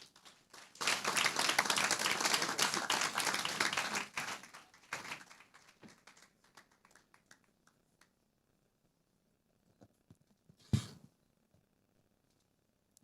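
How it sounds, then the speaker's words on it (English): An audience at a young lawyers' summit gives loud, dense applause for about four seconds, then it thins to a few scattered claps, followed by near silence with one sharp knock. "Please, another round of applause for our distinguished guests."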